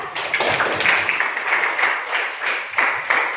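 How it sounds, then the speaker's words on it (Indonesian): A classroom of high school maths students gives a big student group a round of applause: dense, steady clapping from many hands close by, with no talk over it. "kemudian untuk kelompok besar beri aplaus juga"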